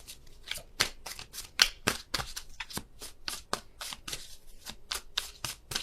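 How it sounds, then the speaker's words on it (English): Tarot cards being shuffled by hand: a rapid run of crisp riffling bursts with an uneven rhythm, up close and clear, with no talking. "There's still a ton of cards coming out."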